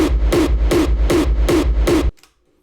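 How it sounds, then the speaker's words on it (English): Finished gated kick drum with punch and a reverb tail, six loud evenly spaced thumping hits in a steady beat, each cut off short, ending with a brief fading tail and then silence. "And that finished kick sounds like this."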